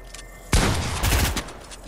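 A sharp, loud gunshot fires in a Fortnite zone wars match, followed by a second burst of shots, against low background game noise.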